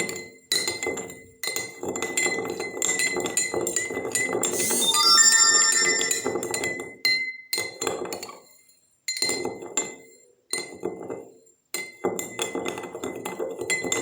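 A spoon stirs sugar into water in a glass, producing repeated bright ringing clinks in steady bursts, fairly close and clear, with short pauses between rounds of stirring.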